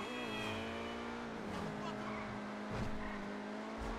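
An Obey 10F sports car in GTA 5 brakes hard, its engine tone falling as the tires squeal briefly, heard up close over a steady drone.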